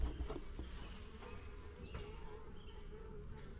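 Honeybees fly in and out of a hive opening in a building wall, a soft continuous buzzing drone with individual insects passing close now and then, faint and steady outdoors.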